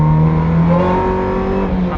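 Toyota AE86 race car running a lap on track, its engine droning loudly and steadily with a sustained rising tone throughout, no voices over it.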